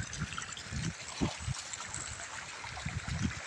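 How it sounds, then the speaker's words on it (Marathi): Borewell water pours steadily into a farm pond, a continuous splashing trickle with a few louder gushes and low thumps, close and fairly loud throughout. "एका मोटरच्या पाण्यावानी पाणी टाकते बघा आमचं बोर."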